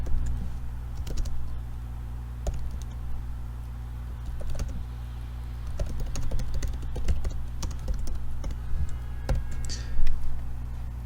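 Steady typing on a computer keyboard, with dense irregular clicks and keystrokes running throughout over a low constant hum, close and clear, while entering a macro for a keyboard shortcut.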